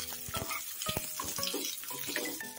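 Onion fries in a little oil with salt in a wok, a quiet, close sizzle punctuated by clinks and scrapes of a utensil stirring against the metal.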